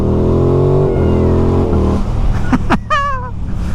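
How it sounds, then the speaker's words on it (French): A loud Aprilia Tuono motorcycle engine revs hard and drops, its steady drone shifting pitch, followed by a couple of sharp mechanical chirps at the end. "le bruit qui vient du moteur"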